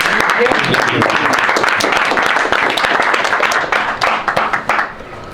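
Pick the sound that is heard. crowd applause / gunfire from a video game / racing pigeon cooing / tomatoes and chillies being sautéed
crowd applause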